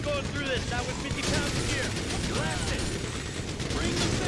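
Gunfire in the video game GTA V during the Paleto Score bank heist mission: rapid bursts of automatic shots and mechanical clatter blend into a continuous loud battle mix, with someone talking over it.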